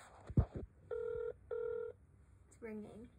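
Two steady electronic ringback tones sound in a row over a quiet line, with a voice speaking briefly before and after the rings.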